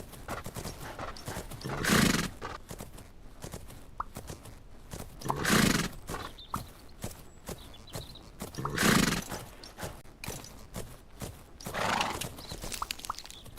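Horse hoofbeats cantering in the video game Fernhoof Grove, with several rhythmic bursts of galloping and clip-clop steps recurring every few seconds at moderate loudness, with no talk.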